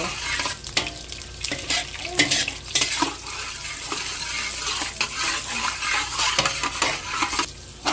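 Butter melting into hot cooking oil in a pan while making beef stroganoff, crackling with a steady close sizzle broken by scattered pops and stirring clinks, with no speech.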